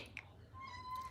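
A house cat meows twice indoors, a short close call followed by a longer drawn-out meow over a low background hum.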